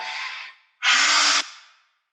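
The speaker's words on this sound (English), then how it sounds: "we're going to stick our tongues out and breathe out" Two forceful breaths through the mouth with the tongue stuck out: a softer airy exhale, a brief pause, then a louder, harsher hissing exhale that trails off, close and with no talking.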